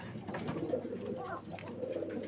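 Pigeons at a farm stocking black shaker running and satin pigeons coo in a steady, low murmur close by, with no talk over them.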